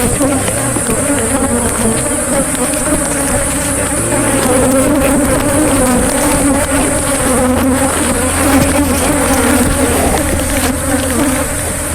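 Dense, steady buzzing of many honeybees close by at a hive during beekeeping, a continuous droning hum with no talking.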